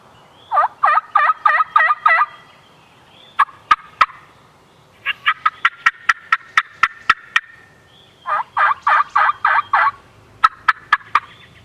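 A Streetwalker turkey call imitates a wild turkey, loud and close: rapid bursts of yelps alternate with sharp clucks and cutts, then another yelping run, with no talking.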